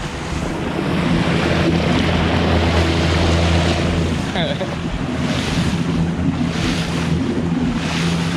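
A small boat motor runs hard and steady under loud wind and rushing water, with the roar of the hull cutting through waves.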